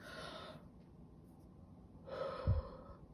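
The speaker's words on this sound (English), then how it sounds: "I took this like deep breath" A single deep breath drawn in close to the mic, with a long breathy inhale, a pause, then a second airy pull ending in a soft low thump, all without speech.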